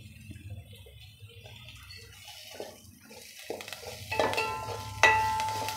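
Dried red chillies and turmeric frying in oil for a Nellore-style masala vada curry, a low sizzle with watery stirring noises that grows louder and busier toward the end, no talking.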